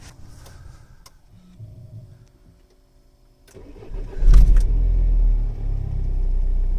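A 2007 Renault Laguna 2 1.9 dCi 130 diesel turning over and catching, a short crank and then a steady close engine rumble idling after some quiet clicks from inside the car.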